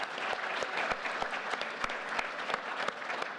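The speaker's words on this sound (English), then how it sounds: "let's give them all a round of applause." Applause from a convention audience at PAX West 2021 welcoming speakers, a steady wash of many hands clapping with a few sharp individual claps standing out, moderately loud and continuous.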